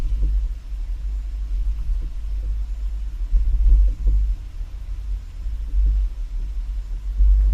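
A 2022 Ford Maverick carrying a Swagman XTC2 Tilt two-bike rack rolls over speed bumps, a steady low rumble from inside the truck with dull thumps and light rattles as it goes over.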